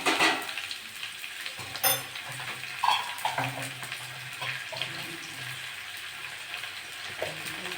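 Ginger-garlic paste sizzles in hot oil while being stirred for a tilapia fish curry with potato and papaya, a steady frying hiss with intermittent scraping and clinks of the spoon against the pan, close and moderately loud.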